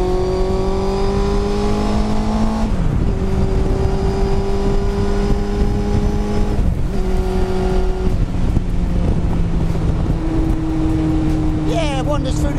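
A 919 Fireblade-engined Indy Classic car revs hard and climbs through the gears, with sharp pitch drops at each shift, loud and continuous under steady engine noise.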